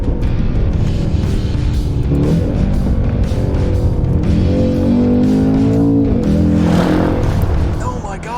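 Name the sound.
4-liter twin-turbo V8 wagon engine downshifts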